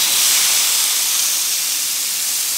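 A seasoned turkey breast sears on a Weber Q 2400 electric grill, a loud, steady, close sizzling hiss that holds evenly throughout.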